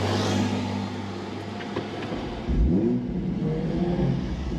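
Engine of a Toyota MK5 Supra restarting: a steady idle drone, a brief pause, then a rising rev as it catches and settles, heard close without talk.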